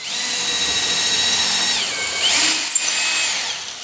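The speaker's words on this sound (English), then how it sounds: "now I'm gonna drill it, make the mark" A power drill whirs steadily at close range, its pitch shifting as the bit bites into a wooden beam and briefly rattles near the end.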